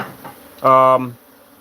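A single short, loud buzz of a bee flying close by rises sharply and cuts off after about half a second, followed by quiet.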